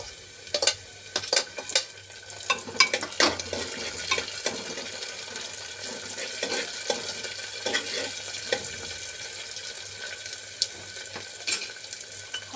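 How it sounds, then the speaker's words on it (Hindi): Onions fry in a pan with a steady sizzle, broken by repeated sharp clicks and scrapes of stirring. "तो देखिए प्याज हमारी यहाँ लगभग फ्राई हो चुकी है।"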